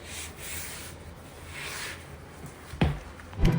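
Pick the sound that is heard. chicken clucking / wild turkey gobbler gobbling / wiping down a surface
wiping down a surface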